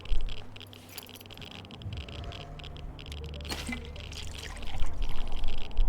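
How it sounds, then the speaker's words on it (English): Water pouring into a container, a soft liquid patter and trickle running for several seconds over low background hum, fairly close and moderately quiet. "Let's get a bit of water."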